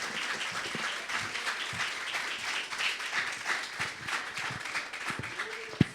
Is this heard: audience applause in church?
yes